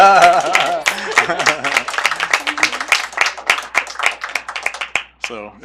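Scattered clapping breaks out at a school board meeting after a vote to appoint a superintendent, mixed with overlapping voices and cheerful talk, sharp individual claps standing out against the chatter.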